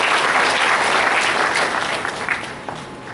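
An audience at a university banking and finance department event applauds the chairman with loud, dense clapping that gradually thins out over a few seconds.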